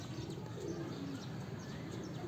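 A pigeon coos softly on a rooftop, low murmuring calls blended into a constant hiss of background noise, faint and distant with no talk.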